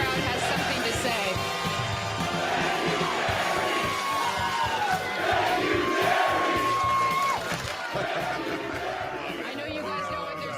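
A large stadium crowd at a Wisconsin sports event chants loudly and in unison, a dense roar of many voices with rhythmic swells and shouts.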